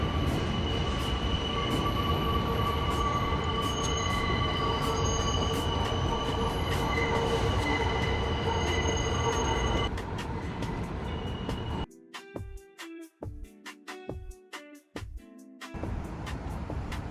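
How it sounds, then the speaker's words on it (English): Subway or elevated train wheels squealing on sharp curves and tight turns near Roosevelt Island, NYC: sustained high-pitched screeching tones over a rumbling roar, then sharp intermittent squeals and clicks as the cars pass. "The constant sharp screeching of wheels is due to the many trains sharing the tracks and the sharp curves"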